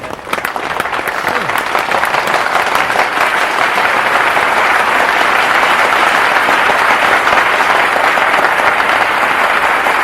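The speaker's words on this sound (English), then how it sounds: "The scene is punctuated by Harry's measured reaction of applause, which masks his ill designs." Steady, dense applause fills a Gungrave anime scene, sustained and loud from start to finish with no pauses.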